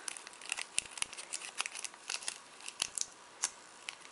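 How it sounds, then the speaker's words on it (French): Embossed tracing paper flower petals crumpled by hand for scrapbooking, close crisp crinkles in quick irregular bursts with sharp crackling peaks and brief pauses, no voices. "Pas hésiter à froisser le papier, hein, l'embossage ne partira pas."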